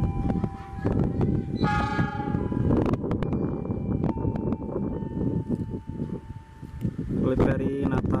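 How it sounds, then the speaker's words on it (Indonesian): The Argo Wilis passenger train rolls into Cibatu station in Indonesia, a loud rumble of wheels and cars with tonal horn-like squeals, while someone talks over it nearby. "Kereta api Argo Wilis persiapan masuk stasiun Cibatu, berhenti luar biasa di sini ya."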